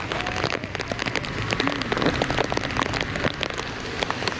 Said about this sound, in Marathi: जाताना पण पाऊस आहे.